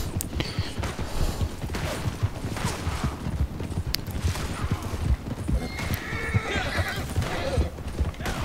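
A horse in the Red Dead Online video game gallops with rapid, continuous hoof clip-clops and lets out loud whinnies and neighs, amid occasional creaks and game noise.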